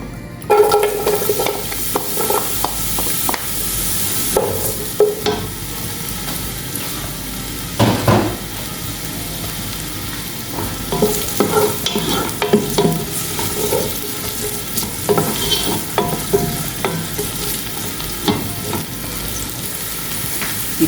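Onion frying in a pan for a fish-and-rice dish, with a steady crackling sizzle throughout and repeated louder scrapes and clanks of stirring against the pan, close and without talk.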